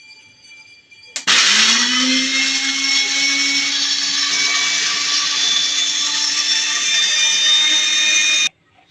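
A mixer grinder grinding tomatoes and dried chillies for pizza sauce starts abruptly with a click, then runs as a loud, steady high-pitched whirring drone for about seven seconds before stopping sharply.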